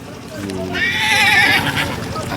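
A working mare neighs loudly at the Dussehra horse fair in Sri Muktsar Sahib, a bright, wavering whinny lasting close to a second while people talk nearby and crowd noise continues underneath.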